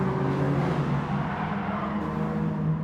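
A Citroen racing car brakes hard into a left-hand corner on a French circuit, a close, loud, steady engine roar and whir with the pitch dropping slightly as it slows, with no talk.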